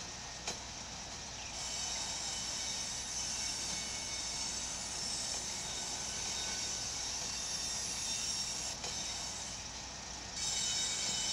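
Locomotive-led freight train in the Train Sim Pro USA simulator, with a GP7 diesel in the lead, rumbling steadily with broadband rail noise and a couple of sharp clanks, no talk.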